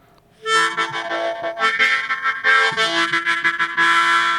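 A custom double-sided paired harmonica blown, its reeds sounding in different octaves for a full organ-like chord, starting after a short silence and playing loud, sustained notes with shifting chords throughout, no talking.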